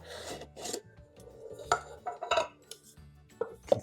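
A Vargo Bot 700 titanium pot is handled along with alcohol stove accessories, giving close, irregular metallic scrapes, clinks and rubbing taps with brief quiet gaps.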